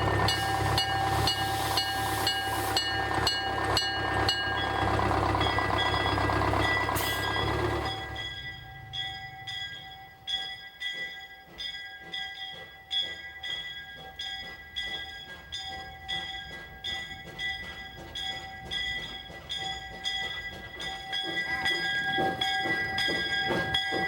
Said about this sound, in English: The train crew pulls out passenger coach number 3